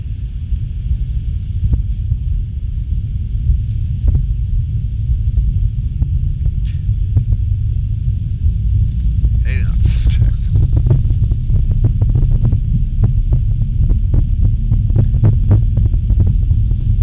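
Embraer ERJ135/145 regional jet engines spooling at takeoff thrust in a flight simulator game, a steady loud low roar and hum with a constant whine above, continuous throughout without talk.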